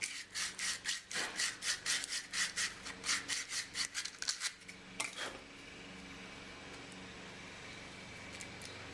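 A metal pipe nipple is threaded by hand into a round fitting on a Ferris wheel ladder ball, giving a quick run of rhythmic scraping, rasping strokes for about five seconds before it settles into quiet background.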